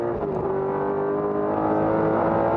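BMW race car at Hampton Downs circuit accelerating up through the gears, a loud, steady engine drone with rising pitch heard from close by, continuous with no talk.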